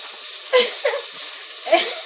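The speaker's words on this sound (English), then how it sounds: "we're going to sizzle that meat up just a little bit." Meat sizzles in a hot pan, a steady hiss broken by a few brief, sharper crackling bursts.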